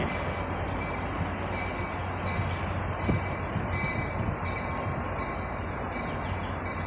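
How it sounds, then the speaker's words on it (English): Amtrak Capitol Corridor train bound for Sacramento arriving at Emeryville Station. A steady, loud rolling rumble of rail cars runs throughout, with faint metallic wheel squeal and no voices. "Here comes the Capitol Corridor to Sacramento. And it will be stopping here at Emeryville Station."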